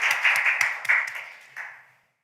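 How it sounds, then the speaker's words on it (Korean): Audience applause at a policy seminar on cryptocurrency taxation held at the National Assembly, a short burst of clapping that swells, dips and fades out within about two seconds, with no voices over it. "박수 한번 부탁드리겠습니다"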